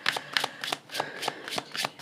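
Tarot cards are shuffled close up in a quick run of soft, rhythmic riffling snaps, about seven in two seconds, fairly quiet with no talking.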